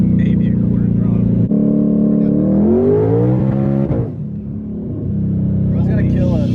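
A 1000hp twin-turbo Mustang accelerating at partial throttle, a loud, close engine roar climbing in pitch then dropping off as revs fall, with people talking and exclaiming over it.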